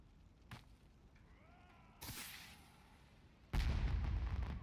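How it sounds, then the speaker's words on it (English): Magnificent fireworks set off in World of Warcraft burst with a sharp crack, a second rushing pop with a whistling trail, then a loud sustained booming blast, each standing alone against a quiet game background. "I think we looted this magnificent fireworks."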